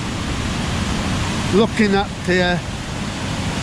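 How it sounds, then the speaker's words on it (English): Lumb Falls in Hebden Bridge, swollen with floodwater, roars as a steady, loud wash of rushing water throughout, with someone speaking briefly over it. "the waterfall from this angle is quite a sight. Lumb Falls here in Hebden Bridge."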